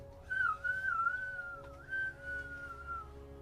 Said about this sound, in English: Rigby quickly whistles and goes,